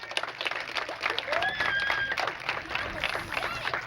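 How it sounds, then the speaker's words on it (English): Children at a youth soccer finals ceremony clap for their parents, a light scattered patter of applause in a room with voices and movement mixed in. "Children, clap for your parents."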